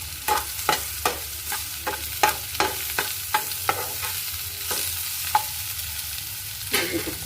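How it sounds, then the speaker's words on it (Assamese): Fish frying in a pan with salt added is stirred in sharp, repeated scrapes and knocks, roughly a dozen distinct strokes over a soft, steady sizzle close to the pan, with no talking. "এতিয়া লৰাই দিম।"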